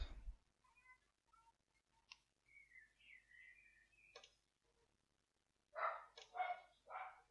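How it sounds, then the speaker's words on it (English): A dog barks outside below a house, a few sharp yelps in a sparse, quiet room, with a louder cluster of barks near the end. "I hope you guys don't hear the dog barking below"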